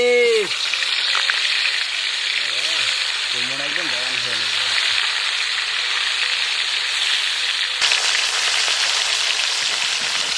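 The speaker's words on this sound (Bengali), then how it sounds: "এই ওই সেই বিখ্যাত মাছটাকে ভেজে নেবো তার জন্য সরিষার তেল" A pond-caught fish, caught by the cook's grandfather, sizzles steadily as it fries in mustard oil, a dense continuous hiss across the whole stretch with brief vocal sounds near the start and middle.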